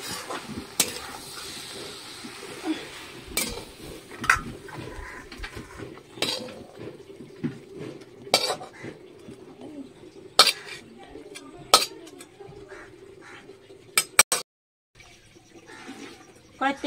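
Cooked cabbage is lifted out of a pan with metal utensils, sharp clinks and scrapes landing irregularly amid kitchen clatter, with some talking.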